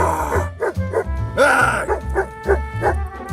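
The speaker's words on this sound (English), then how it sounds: "Here's a dog saving a man from a cougar." A dog barks in a rapid, loud series of woofs near a cougar, with a whining, howling yelp in the middle, close and dominant throughout.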